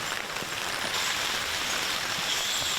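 Steady rain falls through a tree canopy in a park, a dense, even hiss of drops with no talking, starting to pick up from a light shower.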